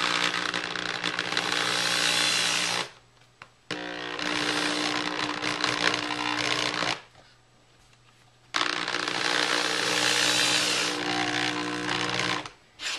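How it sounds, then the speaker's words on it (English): A power drill whirs loudly in long bursts, stopping briefly between runs, close by with a steady motor hum. "That drill right there is pretty strong"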